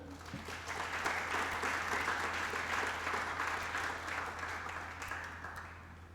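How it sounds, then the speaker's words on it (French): A church congregation bursts into applause to acclaim the Lord, a steady burst of many hands clapping that swells quickly and fades slightly at the end, heard alone. "Quelqu'un peut acclamer le Seigneur?"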